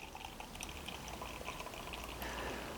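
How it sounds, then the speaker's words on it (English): Belgian chicory tripel beer poured carefully from a bottle into a glass, a soft continuous liquid trickle with light fizzing and faint drips, heard close up. "I'm gonna pour carefully because there's a lot of sediment on the bottom of this"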